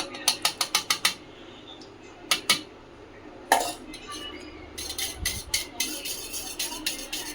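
Gram flour batter is mixed in a bowl: quick runs of light, sharp clinks of a utensil against the bowl come in rapid bursts, then scattered taps, close and fairly quiet.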